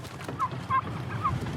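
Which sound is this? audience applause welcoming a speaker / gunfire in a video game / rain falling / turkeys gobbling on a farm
turkeys gobbling on a farm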